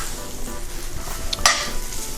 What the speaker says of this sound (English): To the pan, we're going to add roughly 2 tablespoons of butter.